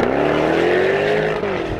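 A 2020 Jaguar F-Type R P575 with a supercharged 5-litre V8 accelerates loudly and close, its engine note climbing steadily with supercharger whine before easing off.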